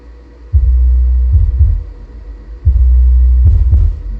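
Deep, booming bass pulses throb from a subwoofer fitted with a small PSW filter, playing music in loud, sustained low thumps separated by short gaps.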